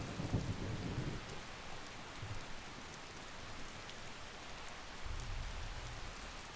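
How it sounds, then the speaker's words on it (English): Steady rain hisses on surfaces in the fantasy video game Skyrim, with low rumbles of thunder swelling at the start and again near the end, alone with no voices. "And it's raining again."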